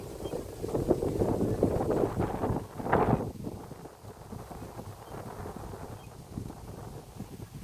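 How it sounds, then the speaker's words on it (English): Wind blows into a microphone outdoors, making heavy, rumbling buffeting gusts that swell and ease unevenly, loud and close, with a brief stronger burst partway through. "Hopefully my voice shows up through the wind."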